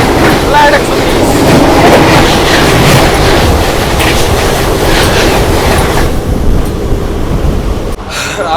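An Indian Railways Rajdhani Express rushes past at a crossing, with a loud, close roar and rhythmic wheel clatter that continues steadily before thinning out near the end.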